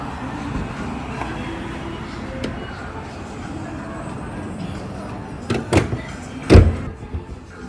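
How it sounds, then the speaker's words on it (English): A car hood slams shut on a vehicle being tuned for E85, a couple of sharp thuds near the end after quieter handling clatter, set against steady background noise. "Let's close the hood now."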